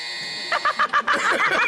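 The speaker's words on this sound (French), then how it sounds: "Action de buzzer." A game-show buzzer sounds in short rapid electronic pulses in a French quiz game show, a quick stuttering series of bright buzzes lasting about a second.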